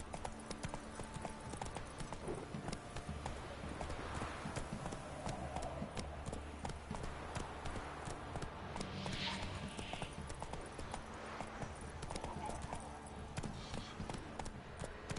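A horse in The Witcher 3 clip-clops at a steady gallop, with rhythmic hoofbeats running continuously throughout, close and moderately loud, while a voice speaks briefly.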